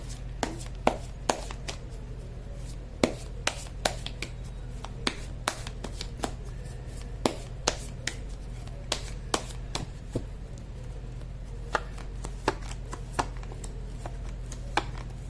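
A second tarot deck being shuffled, with repeated crisp card riffles and slaps in irregular bursts over a steady low hum, close and fairly quiet, no talking.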